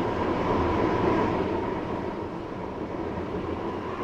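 Steady rumble of a train running in a train video game, a continuous even drone with no voices over it.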